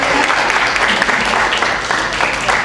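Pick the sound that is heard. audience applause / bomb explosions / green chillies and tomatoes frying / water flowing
audience applause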